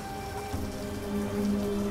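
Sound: rain in Lost Horizon video game

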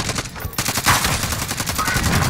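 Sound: rocket fired in a video game

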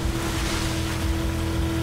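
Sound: boat moving through water in video game Battlefield 4

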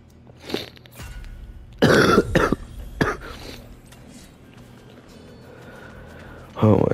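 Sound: coughing from a sore throat

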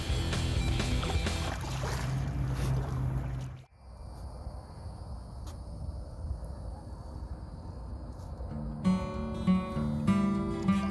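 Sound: paddling a canoe on Florida waters

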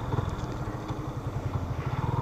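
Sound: motorcycle riding

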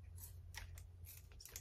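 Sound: scissors cutting

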